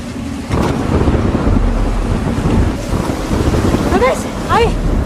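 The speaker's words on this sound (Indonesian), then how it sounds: "Ketika hujan badai turun" A thunderstorm with heavy rain and wind makes a loud, steady roar that fills the scene for several seconds, with a few brief higher chirping calls near the end.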